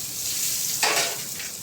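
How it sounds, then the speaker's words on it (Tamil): About 100 ml of butter sizzles as it hits a large pot to start a big batch of butter chicken gravy, a steady close frying hiss that swells briefly as it is stirred. "இதில் ஃபஸ்ட்டு ஒரு 100 ml பட்டர் சேர்க்கலாம்."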